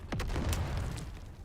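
A grenade detonates in the video game Dune: Awakening, a single loud low boom with a sharp burst at onset that rumbles on briefly and stays close and heavy.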